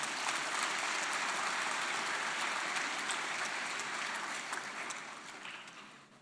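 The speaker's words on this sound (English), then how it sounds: "let's give a big round of applause for Sabah Social Entrepreneurs Association delegation" An audience at a social business talk applauds a delegation from the Sabah Social Entrepreneurs Association, a fairly distant, even clapping that holds steady and then tapers off toward the end.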